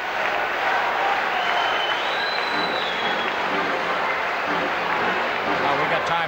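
Crowd at a 1979 NHL playoff hockey game between the Montreal Canadiens and Toronto Maple Leafs roars and claps, a dense, steady wash of cheering that holds throughout under a commentator's voice.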